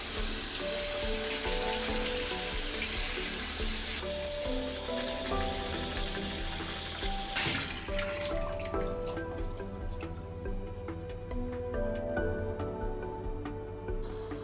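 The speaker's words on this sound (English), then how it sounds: "There is a lot of soil in the roots, so wash it with some water cannons." Spinach roots are rinsed under running water: a steady faucet stream and splashing fill the first half, then give way to quieter dripping and light handling sounds, with no speech.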